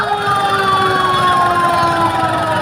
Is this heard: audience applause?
no